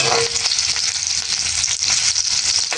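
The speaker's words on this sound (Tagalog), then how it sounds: "Gisa na rin po natin ang luya." Ginger and onion sautéing in a hot pan for a coconut-milk bagongon dish, giving a loud, steady, close sizzle with faint stirring and no talking.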